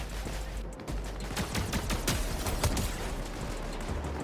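Rapid gunfire from a Fortnite fight, a fast run of sharp shots clustered in the middle, set against steady background noise with no talking.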